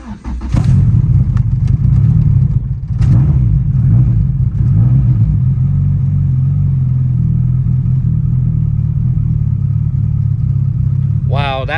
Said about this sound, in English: I'm gonna turn it on and it should just start right up.